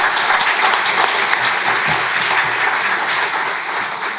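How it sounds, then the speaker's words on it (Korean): A church congregation applauds to welcome a preacher, missionary and practical theologian, to the front for a Sunday sermon, a dense steady clapping throughout that eases slightly at the end. "여기 나오실 때 박수로 환영하겠습니다."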